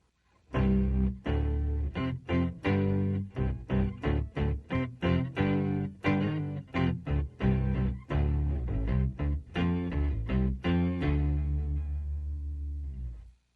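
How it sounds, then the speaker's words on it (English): A deep, fuzzy bass-like guitar tone through an Electro-Harmonix Micro POG octave pedal, fully wet, plays a choppy riff of quick notes and short chords, thick and low, ringing out at the end. "we're going to get kind of a great bass sound"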